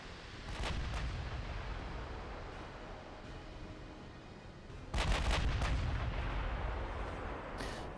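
Battleship guns fire in the naval video game Ultimate Admiral Dreadnoughts, with heavy, rumbling salvos booming out at a distance, a fresh loud blast landing midway, and a continuous roar lingering between shots.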